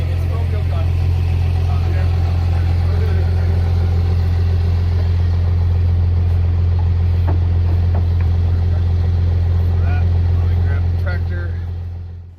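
A worn-out Cummins diesel engine idles low and steady with a deep rumble throughout, loud and close, before fading out at the very end.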